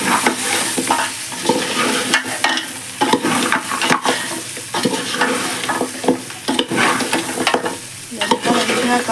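Spicy goat head curry stirred in a sizzling pan, close scraping and wet squelching strokes over constant frying crackle.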